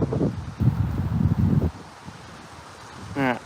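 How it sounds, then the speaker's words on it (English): Wind gusts outdoors at a flint knapping spot where Onondaga chert is being worked. Bursts of low, blustery rumble buffet the microphone through the first second and a half, then ease off to a quieter hiss. "that wind picked up quick"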